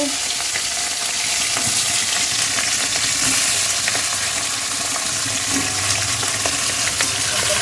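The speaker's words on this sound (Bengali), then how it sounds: "চিংড়ি মাছগুলো মাছ ভেজে নিচ্ছে" Prawns fry in hot oil with a steady, dense sizzle and crackle throughout, alongside occasional soft stirring or handling noises, with no talking.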